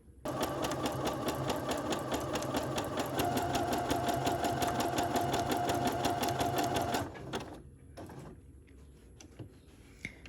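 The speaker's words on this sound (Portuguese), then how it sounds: "posicionou aqui exatamente em cima, já dá para começar a costurar" A domestic sewing machine stitches embroidery in a loud, steady, rapid mechanical rattle for about seven seconds, then stops, leaving faint handling clicks and quiet room noise.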